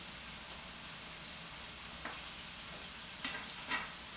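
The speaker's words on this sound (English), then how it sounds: "my meatballs are actually cooking" Meatballs sizzle steadily in a hot pan, a constant crackling hiss with a few sharper pops and spatters near the end.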